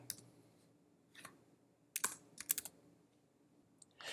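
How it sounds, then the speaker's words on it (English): Several quiet keystrokes on a computer keyboard enter a value into a graphing slider, coming as short irregular clicks in small clusters, close up and alone with no talk. "or even typing in a value."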